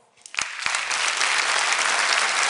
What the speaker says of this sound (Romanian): eu zic că ar trebui să-i aplaudăm